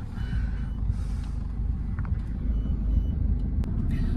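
Road traffic stuck near a PWD office gives a low, steady engine rumble, with a truck's reversing beeps sounding faintly over it.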